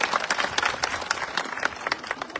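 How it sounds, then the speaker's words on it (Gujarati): A crowd at a village political gathering gives a round of dense, continuous hand-clapping. The applause is moderately loud and a little distant, with no speech over it. "એમના માટે એકવાર તાળીઓ થઈ જાય"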